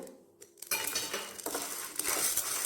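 Chana dal roasts in a pan, the hard lentils rattling and scraping against the metal as a spoon stirs them, a loud, continuous hissing clatter close by after a brief quieter start, with no talking.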